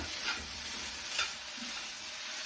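Singapore noodles being stirred and fried in a wok, a soft steady sizzle with faint scraping strokes of the utensil, quiet and continuous with no talking.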